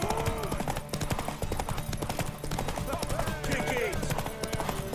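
Horse hooves clop steadily in The Witcher 3, a continuous rhythmic galloping beat under busy game sounds and voices.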